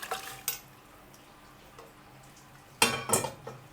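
Bamboo shoots soaked in yanang leaf water go into a pan for stirring, heard as a faint quiet background with a few brief clattering knocks, two sharper bursts coming close together near the end.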